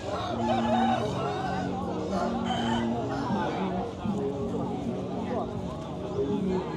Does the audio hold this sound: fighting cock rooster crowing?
yes